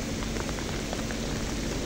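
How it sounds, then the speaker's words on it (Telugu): Heavy rain pours steadily in a dense, even hiss, loud and close, with no talk over it. "వర్షం అయితే దంచేస్తుంది ఫ్రెండ్, వర్షం దంచేస్తుంది."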